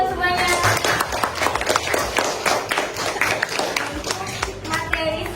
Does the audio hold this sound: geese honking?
no